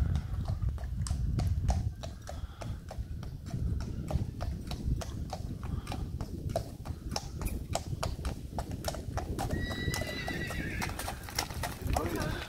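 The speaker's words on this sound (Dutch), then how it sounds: "we hebben Friese paarden" Friesian horses clop along with brisk, evenly spaced hoofbeats close by at an equestrian ride event, while a horse whinnies and people talk in the background.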